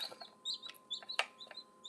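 A chicken on a farm clucks in a quick, uneven series of short, fairly close calls standing alone without talk.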